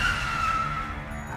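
A car braking hard at a red signal, tires skidding with a sustained squeal over low engine rumble, loud and close, tapering off as the vehicle stops.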